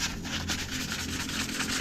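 Sandpaper is rubbed steadily over dried putty, a continuous close scratchy rasp with a faint back-and-forth pulse and no talk.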